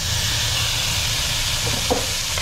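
Tomatoes drop into a hot pan of onions and tofu oil, a steady close sizzle and frying hiss running throughout with a brief stirring clatter near the end.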